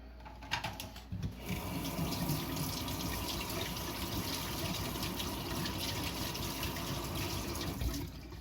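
Water from a kitchen tap runs steadily into a sink as hands are washed during baking, a soft continuous splashing with a few faint clinks near the start.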